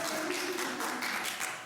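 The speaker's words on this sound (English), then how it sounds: "We don't usually get claps for things." Light applause from a small group at a city planning and zoning council meeting, a soft, brief patter of hands, fairly distant and quiet.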